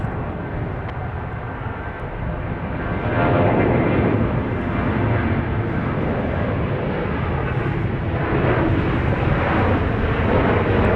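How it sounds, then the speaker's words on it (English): A Boeing 737 departs from Dallas Love Field runway 31 right, its engines a loud broadband roar that swells partway through and holds steady, rumbling and close throughout. "It's a 737 runway 31 right 800. at Mike 1 Alpha depart."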